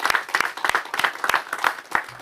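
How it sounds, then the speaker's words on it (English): An audience claps for school specialists at a mayor's first-day-of-school media event, a loose round of applause with distinct individual claps in an uneven rhythm. "So let's clap for all the folks, the specialists here, all they have done."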